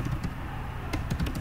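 Typing on a computer keyboard, heard close as a quick run of sharp key clicks in uneven bursts over a dull background hum.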